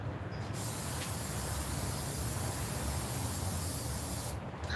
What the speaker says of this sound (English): Take your spray pan, your Crisco pan release, whatever. Hit this baby really good.